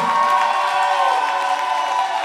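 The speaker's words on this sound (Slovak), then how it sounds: "Väčší potlesk. Môžete aj kričať." Concert crowd at a rock night cheering and applauding, a sustained wash of whistles, shouts and clapping with a bright, tonal edge.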